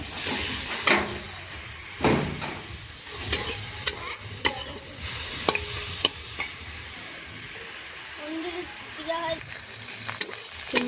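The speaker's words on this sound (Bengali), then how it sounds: "চিংড়ি মাছটা ভাজা হয়ে গেছে দেখো কি সুন্দর লাল লাল করে ভেজে নিয়েছি" Prawns frying in a kadai for a prawn and betho shaak dish, with a steady sizzle broken by sharp scrapes and clatters of stirring, close, and a voice briefly in the background.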